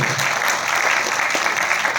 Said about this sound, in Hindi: तो एक शानदार ताली प्रोडक्ट के लिए होनी चाहिए।